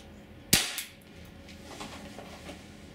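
A single sharp crack from a Jericho 941 CO2 4.5mm air pistol fired about three feet from a chronograph, loud and close, followed by a brief ringing tail and quiet room noise.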